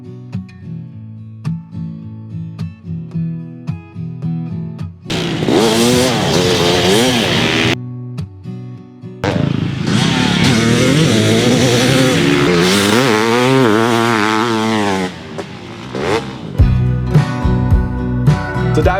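A 2000 Kawasaki KX500 two-stroke motocross bike built by Twisted Development, revved hard in loud, rising and falling bursts with brief pauses, with gentler rhythmic passages before and after.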